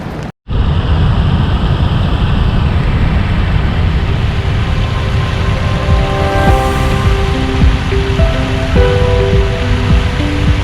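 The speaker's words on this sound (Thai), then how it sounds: "ฝนตกแบบชุ่มฉ่ำไปเลยทีเดียวนะครับผม" Heavy rain pours steadily at Khun Dan Prakan Chon Dam in Nakhon Nayok near the end of the rainy season, a loud, dense, continuous hiss that starts abruptly after a brief gap and stays constant throughout.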